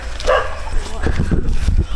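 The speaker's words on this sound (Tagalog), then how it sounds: "may mga aso." Dogs barking and yipping on a cave exploration trail in the Philippines, a few sharp barks mixed with voices talking over them nearby.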